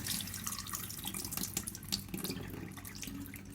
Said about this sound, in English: I'm going to double rinse them. And quickly swirling them around.